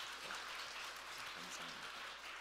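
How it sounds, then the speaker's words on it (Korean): Faint applause from a church congregation during a Korean worship service after a hymn, a steady soft wash of clapping with speech close by. "우리 하나님께 영광의 박수를 올려드리십시오."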